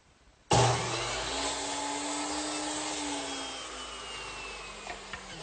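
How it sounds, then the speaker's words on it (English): A miter saw cuts wooden rails for a bedside table: the motor snaps on abruptly into a loud, sustained whine that slowly sags in pitch as the blade works through the wood, with a few small knocks near the end. "I'll cut them right here on the miter saw"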